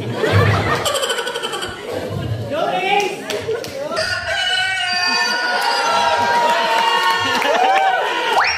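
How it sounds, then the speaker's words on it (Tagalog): A rooster crows amid a busy, noisy scene, with people talking and a crowd murmuring throughout, plus clattering mechanical noise nearby. "Ay, may manok pa pala."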